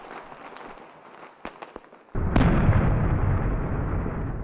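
Scattered firecracker pops crackle faintly at first, then a sudden heavy explosive blast on a tomb mound at midnight erupts into a loud, sustained rumbling roar that slowly fades, with no voices.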